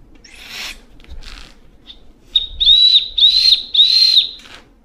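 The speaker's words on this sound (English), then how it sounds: "A whistle." A shrill survival whistle sounds three short blasts in quick succession, close and loud, after a few softer breathy puffs.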